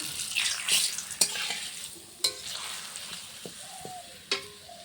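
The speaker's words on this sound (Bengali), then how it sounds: "পাঁপড়টা ভেজে নেব।" Papad frying in hot oil with a steady crackling sizzle, punctuated by a few sharp clinks and scrapes of a utensil against the pan, close and fairly quiet with no talking.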